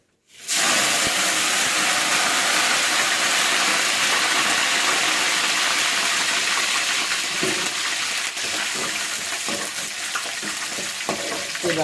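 Spices tempering in hot oil right after mustard seeds have popped, a loud, dense, steady frying hiss and crackle that runs continuously without a break.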